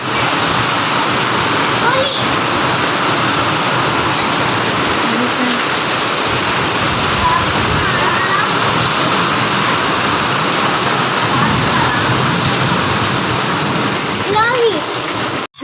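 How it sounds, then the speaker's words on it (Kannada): Steady, dense roar of heavy rain pouring down continuously, loud and unbroken, with a few faint distant sounds barely poking through. "ನೋಡ್ರಿ ಮಳೆ ಬಂತಲ್ಲ ಫ್ರೆಂಡ್ಸ್"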